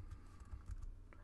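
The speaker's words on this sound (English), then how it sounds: "What you need to do is type in chmod" Keystrokes tapped on a Mac keyboard while entering a terminal command, a short close burst of light clicks over a low steady hum.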